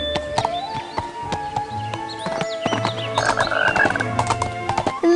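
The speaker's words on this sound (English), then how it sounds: "Look at that cute frog!" Croaking frog in the Barbie Riding Club horse video game, sounding amid game music, hoof clip-clops and horse whinnies; short repeated croaks are clearest past the midpoint, with no talk.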